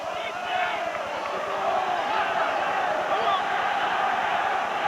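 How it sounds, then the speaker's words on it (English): A football stadium crowd roars continuously and swells slightly as it goes on, a dense wash of cheering voices at moderate loudness throughout. "And the crowd getting into it"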